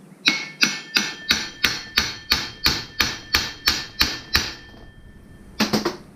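A tool knocks against a gunk-clogged cooling part on a Jeep XJ in a rapid run of about fourteen sharp metallic taps with a ringing tone, then a pause and a final quick cluster of three taps.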